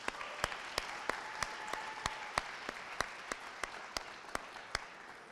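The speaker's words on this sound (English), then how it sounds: "Let's give a round of applause to our soccer athletes." Soccer athletes get applause from the audience at a city sports awards ceremony: faint, distant clapping with a dozen or so sharper individual claps standing out at a steady, regular beat.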